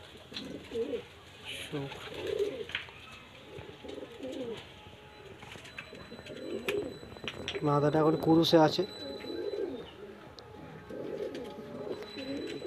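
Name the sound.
white pigeons cooing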